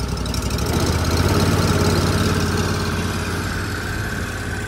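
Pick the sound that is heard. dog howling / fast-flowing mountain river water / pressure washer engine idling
pressure washer engine idling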